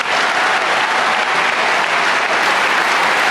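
A large audience at a high school graduation commencement applauds scholarship students, a loud, sustained, dense roar of clapping from many hands, steady throughout with no talk over it.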